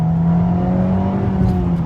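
A Honda Civic Type R FK8 engine in +R mode holds a steady, loud drone with a slight rise in revs, heard close from inside the car without talk.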